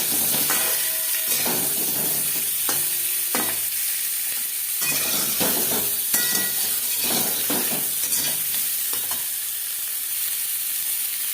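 Boiled potatoes frying in oil with turmeric and salt for a mutton biryani, a steady close sizzle punctuated by repeated spatula scrapes and clicks, with no voices.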